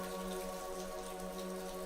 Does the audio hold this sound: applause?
no